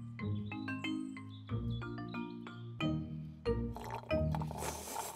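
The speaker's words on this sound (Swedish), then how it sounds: "Vilka högljudda små grisar." Cartoon piglets oinking loudly in a children's animated show, a rapid series of squealing, grunting snorts in quick bursts, one after another, ending with a bubbly splashing sound.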